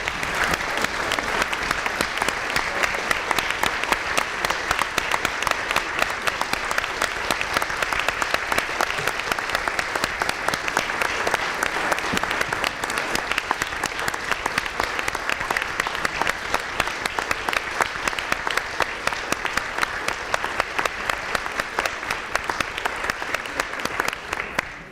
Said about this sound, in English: Please join me in standing and giving Andy a huge hand of applause